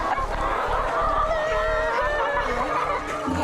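Chickens on a farm, several hens clucking and squawking close by in overlapping calls against a busy background murmur.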